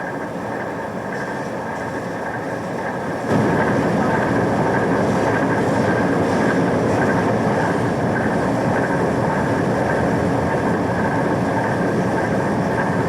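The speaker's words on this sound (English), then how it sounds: "The mills, turned by the turbines, grind it into the texture preferred by the customer." Water-turbine-driven gristmill grinding corn in a mill in the Great Smoky Mountains, a steady loud rumbling drone with a clattering texture that swells in about three seconds in and then holds evenly, with no talk.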